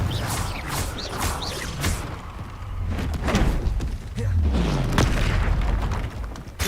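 Booming blasts from the Confringo blasting spell in the video game Hogwarts Legacy, several heavy thuds and explosions over a dense rumbling battle soundscape.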